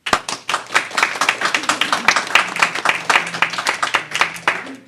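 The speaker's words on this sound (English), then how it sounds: "Let's have a round of applause for them." A small audience claps at a campus art event, a short round of distinct, individually audible hand claps close by, with a faint voice underneath.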